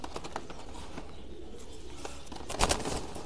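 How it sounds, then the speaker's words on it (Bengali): Racer and high-flying pigeons at a loft farm coo in low, steady murmurs, with a brighter burst of scuffling or wing movement late on as two birds are let go. "কবুতর দুইটা আমি একটু ছেড়ে দিয়ে দেখাই"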